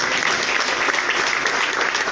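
A church congregation claps steadily throughout, a dense, continuous wash of many hands close and loud, with a faint voice underneath.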